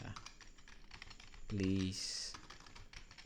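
Quick clicking keystrokes on a computer keyboard while a complaint is typed into an online portal, steady light taps close by with a person speaking over them.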